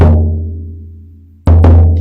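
A single deep frame-drum beat booms loudly and decays slowly, followed after a long pause by two quick close strikes, a slower pattern used to signal the end of a guided process.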